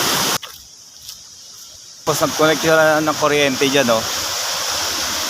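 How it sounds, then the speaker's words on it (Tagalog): A river in Geiranger, Norway flows down from the mountain toward the sea, a steady broadband rush heard under someone talking. "Ayan yung ilog, pababa yan sa dagat, papunta sa dagat."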